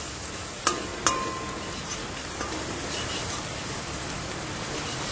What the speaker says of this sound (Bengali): এটাকে ভাজবো, পেঁয়াজটাকে লাল লাল করে একটু।